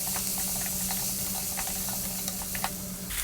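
Paprika, chili, cumin and oregano are stirred through vegetables in a hot frying pan, making a steady close hiss broken by quick soft scrapes and taps.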